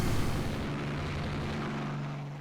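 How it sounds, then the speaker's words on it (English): A formation of about twenty warplanes goes in on a surprise attack in the naval strategy game Rule the Waves 2, heard as a steady, dense engine drone with a low hum that fades slightly, and no voices. "Yep, 20 planes are going in."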